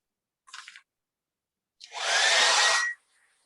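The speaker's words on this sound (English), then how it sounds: "So now I'm going to go ahead and blow dry this" A hair dryer blows on an acrylic sunset bay painting: a short puff first, then a loud, steady rushing whoosh with a faint whine for about a second before it cuts off.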